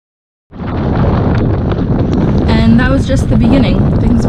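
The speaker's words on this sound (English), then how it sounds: "Things were about to get much, much windier and more intense in about 30 seconds." Strong wind from an approaching squall buffeting a 27-foot sailboat at sea, a loud, constant roar of wind across the microphone that starts abruptly and continues, with a voice faintly audible beneath it.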